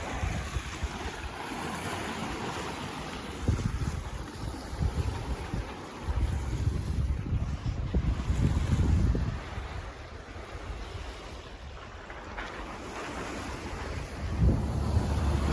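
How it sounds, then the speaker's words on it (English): The sailboat Quetzal under sail on Chesapeake Bay, with continuous wind buffeting and rushing water and wave wash surging in swells, loud and close, with no voices. "So there we go, sailing along."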